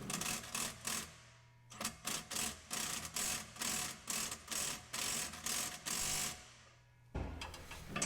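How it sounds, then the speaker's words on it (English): A hand ratchet works on the exhaust bolts of a Landcruiser 200 series, giving close, rapid bursts of clicking in an even back-and-forth rhythm, with short pauses between strokes. "Now initially I just gave it a go with a normal ratchet to see how tight these bolts were."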